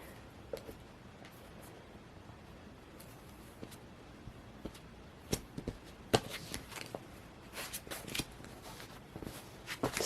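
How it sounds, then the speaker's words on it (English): A small Broke Bee tarot deck being shuffled by hand, with soft riffling and snapping card sounds that grow denser and louder toward the end, close up, with no speech. "This deck is so little, sometimes it's hard to shuffle."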